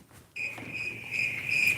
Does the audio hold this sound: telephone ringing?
no